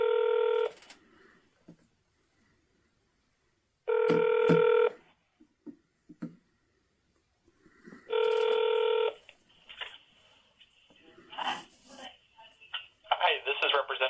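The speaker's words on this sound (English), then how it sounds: "Dialing." A phone line rings while calling a representative's office, three loud evenly spaced ring tones separated by silence, followed by faint clicks and then a voice speaking at the end.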